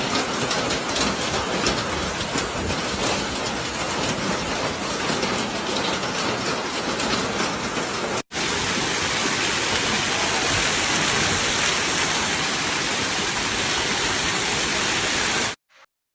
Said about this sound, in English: The sound of the hail hitting surfaces was distinct and loud, echoing through the streets